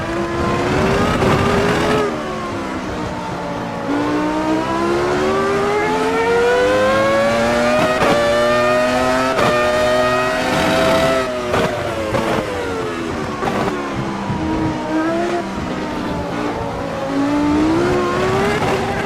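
Michael Schumacher's 2001 Ferrari V10 race car screaming through its gears in the AMS2 racing game, a loud, continuous high-pitched engine note that rises and falls with each shift and corner, heard alone without voices.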